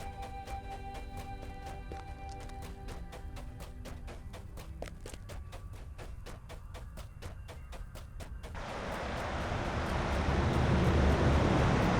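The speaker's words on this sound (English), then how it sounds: "There it is, the waterfall." Steady, broadband rushing of a waterfall in Lord of the Rings Online, swelling louder and fuller toward the end over a layer of tonal game music.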